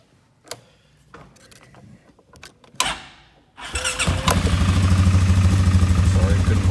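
A pickup truck engine turns over with the ignition and catches, settling into a steady loud idle after a few quiet clicks and knocks.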